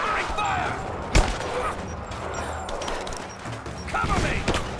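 Gunfire in the video game Rise of the Tomb Raider, a covering-fire exchange with a sharp loud shot standing out over a dense, continuous layer of distant firing and battle noise, with faint voices underneath.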